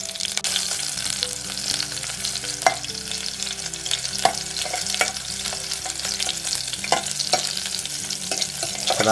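Garlic and green chilli sizzle in a hot tempering (phodni) for a fresh cashew curry, a steady frying hiss with repeated scrapes and taps of a spoon stirring the pan, close and continuous with no talk.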